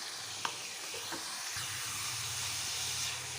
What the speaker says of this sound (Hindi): ये देखिए इसको ये हल्का सा बटर में और ऑयल में सौते कर रही हूँ।